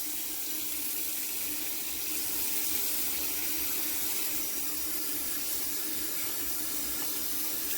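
Tap water running steadily into a sink while a bleached lace frontal wig is rinsed, a continuous close hiss and splash with no voices.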